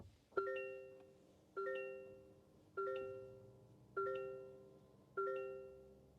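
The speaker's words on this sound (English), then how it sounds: "it does have the latest Toyota startup chime" A 2023 Toyota Corolla Cross plays its startup chime, five identical electronic ding tones repeating about every 1.2 seconds, each ringing out and fading, quiet and close with no talk.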